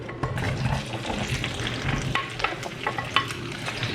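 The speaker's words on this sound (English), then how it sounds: "And we will fry the bhindi till it is half cooked." Okra (bhindi) pieces fry in hot oil in a pan, a constant crackling sizzle with sharp spattering pops and occasional scraping as they are moved around.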